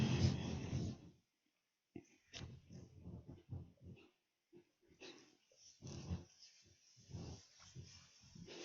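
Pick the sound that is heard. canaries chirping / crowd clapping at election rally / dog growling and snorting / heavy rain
dog growling and snorting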